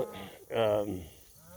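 Cattle grazing on pasture during a drought give one loud, close bleat-like moo, with quieter lowing before it and a voice faintly in the background.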